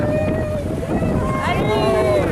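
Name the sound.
flat-bottomed motorboat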